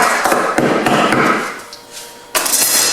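Arrow shafts being pounded after their edges were sanded, a loud, dense run of close knocks and thuds with no voices, ending in a fresh burst of impacts.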